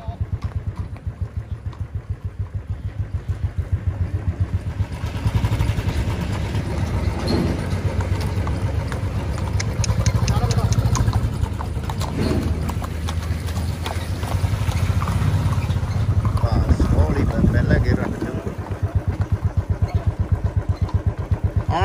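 A tractor engine idles and runs with a steady low rumble throughout, loud and close, at an outdoor spot where a horse buggy is being trained, with brief faint voices.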